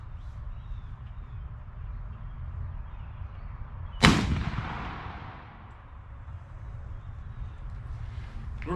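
A Springfield-type rifle fires a single .58 caliber minié ball loaded over 65 grains of powder. The one loud, sharp report rolls off into a fading echo, with outdoor background noise before and after.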